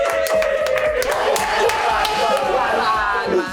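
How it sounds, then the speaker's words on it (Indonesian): Studio audience applauding a guest on an Indonesian talk show, a dense burst of clapping with some cheering and crowd noise, loud and sustained throughout. "Tepuk tangan dong."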